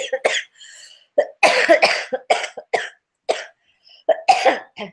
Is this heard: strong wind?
no